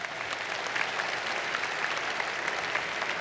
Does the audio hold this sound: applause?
yes